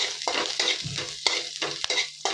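Curry leaves, ginger and green chilli are stir-fried in a pan for a poha recipe. A spatula scrapes in quick repeated strokes, each a bright crackling swish, over a light, steady sizzle.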